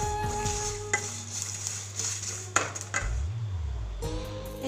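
Spices for lemon pickle dry-roasting in a hot wok with the gas turned off, soft sizzling under scraping spatula strokes and occasional metallic clinks, with a low tonal hum at times.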